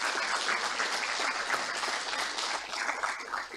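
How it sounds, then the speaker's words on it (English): Audience at a Master of Space Studies opening ceremony breaks into sustained applause, a broad, even roar of many hands clapping at moderate volume that holds steady and tapers slightly near the end. "You should give yourselves applause right now."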